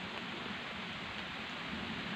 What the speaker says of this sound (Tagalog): Nalakas ang ulan.